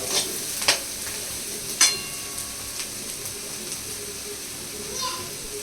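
Chowmein with onion and capsicum frying in a pan, a low continuous sizzle with occasional sharp clinks of a spatula stirring, quiet and close, with faint voices in the background.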